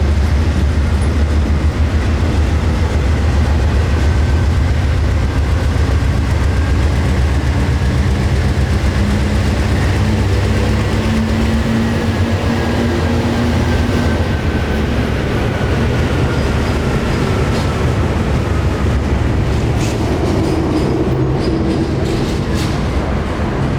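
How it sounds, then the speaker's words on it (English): Two AC4400 diesel locomotives shove a long freight train along a yard track, the lead unit working hard: a steady, loud low engine drone with rolling wheel rumble and faint clatter throughout, no voices. "the two AC-44s backed the entire train onto another yard track, and that first AC-4400 is definitely showing its hard work this morning"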